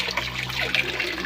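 Running water filling a clogged kitchen sink, a steady close splashing and trickling stream that stays even across the short moment.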